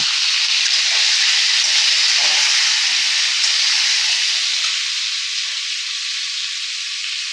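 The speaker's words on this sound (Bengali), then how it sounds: "আমি পটলগুলোকে একটু ভাজা করে নেব।" Pointed gourd (potol) pieces seasoned with salt and turmeric fry in hot oil, giving a loud, steady sizzle and hiss that holds for the whole stretch, close by and with no talking.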